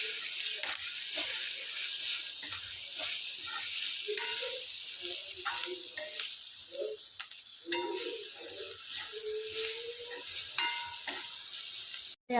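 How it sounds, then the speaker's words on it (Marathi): Capsicum masala sabji fries in a pan while being stirred, with a soft continuous sizzle under scattered scraping and clinking of the spoon against the pan. "तर आपण भाजी टाकून घेऊ, त्याला छान मिक्स करून घेऊ।"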